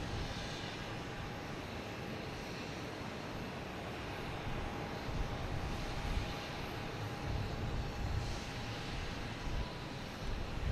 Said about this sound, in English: next to arrive will be Spirit Airlines A320 Neo coming in from Atlanta